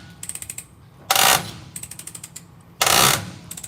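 A small ratcheting mechanism is cranked in quick bursts of rapid clicks, close and clear, broken by two louder whooshing or grinding surges, with no talking.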